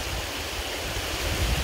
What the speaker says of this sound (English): the waterfall itself,